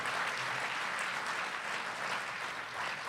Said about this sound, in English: Let's give him a big round of applause so he can hear you